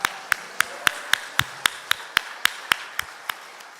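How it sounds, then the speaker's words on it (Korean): Sharp, evenly spaced claps from a church congregation during a Sunday morning service ring out in a steady rhythm, about a dozen in under four seconds, loud and clean with no talking. "하나님께 영광의 박수 올려드립니다."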